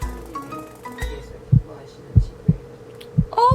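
Heartbeat sound effect of thumping low pulses, about five close beats arriving in an irregular rhythm, played over a faint background hum and a few soft tones, with no talk.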